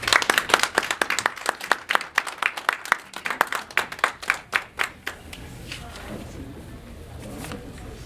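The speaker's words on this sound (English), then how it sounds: "with a round of applause." Applause and clapping from an audience welcoming a minister to the podium at a leadership event, with dense rapid claps for about five seconds before fading into a softer room murmur.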